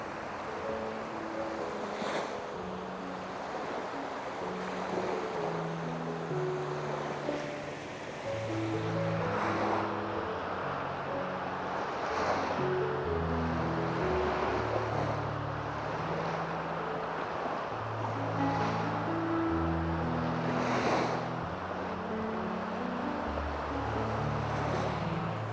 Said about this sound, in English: Trying to shield my microphone from the wind.